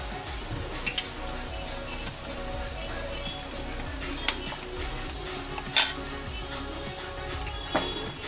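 Four eggs added to a pan of fried onions sizzle steadily over medium flame for egg fried rice, with occasional clinks and scrapes of stirring.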